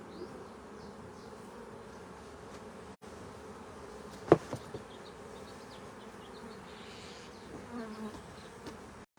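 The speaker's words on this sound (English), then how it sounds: "So the bees are getting up into my pant legs" Honey bees buzzing during a hive split, a dense steady swarm drone all around, with a couple of brief knocks of handling noise.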